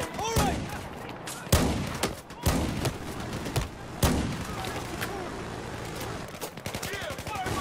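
Rapid automatic gunfire and heavy thumping shots in Battlefield 4 fill the scene, bursts of fire with sharp loud cracks, with voices talking over the combat.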